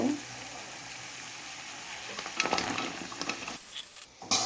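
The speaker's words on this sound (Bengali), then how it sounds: "এখন আমি আলুটা ভালোভাবে কষিয়ে নিব" Potatoes stirred and fried in a thick spice paste in a pan, a low crackling sizzle with scraping stirs growing busier midway, close and fairly quiet, with a short pause near the end.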